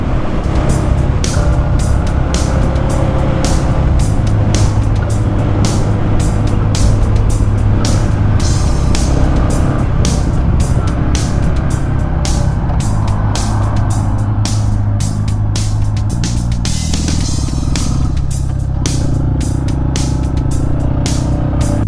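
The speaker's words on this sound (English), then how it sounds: "This motorcycle is fun and you can make little maneuvers like I just did back there." Steady engine drone from a Yamaha XT250 dual-sport motorcycle being ridden through road traffic, loud and continuous with wind rush throughout, engine pitch shifting as it eases off near the end.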